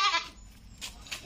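A goat bleats close by in a short wavering cry, then two fainter brief bleats follow within a second.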